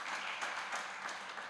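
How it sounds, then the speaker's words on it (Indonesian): Steady applause from a church congregation at a worship service, a dense continuous patter of many hands clapping with no voices above it. "Beri tepuk tangan yang meriah bagi Tuhan"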